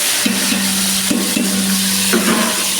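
Onions and whole spices frying in oil in a large pot for biryani, a loud, steady close sizzle with a few clanking stirs and a low droning hum from a burner underneath, without voices.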